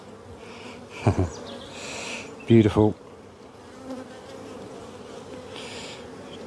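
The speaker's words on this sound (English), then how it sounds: "Fighting a bee on the lug there." Bees buzz around an open beehive during a hive inspection, with two loud close-up buzzing bursts over a faint, constant background hum, and a brief spoken word near the end.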